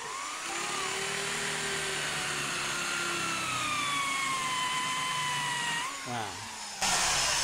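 An electric drill fitted with a wood saw blade cuts wood, giving a steady high whine that sags under load, then stops and restarts abruptly at the end.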